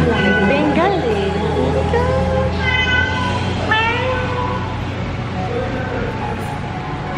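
A Bengal cat in a large cat cafe in the Philippines meows several times in quick rising calls over steady low room hum, close by, while people talk in the background.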